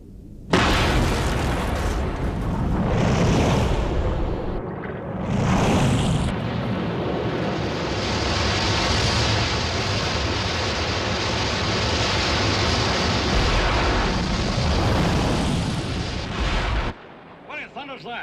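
A radio-drama atomic explosion effect: a loud, sustained roaring blast with rumbling bursts that fills the scene for about sixteen seconds, then cuts off abruptly into quieter sound.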